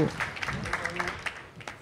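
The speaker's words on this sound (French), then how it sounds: "On peut applaudir Marion Combecave." Applause from the audience at a radio show young talent final, a brief burst of clapping that fades as a voice talks over it.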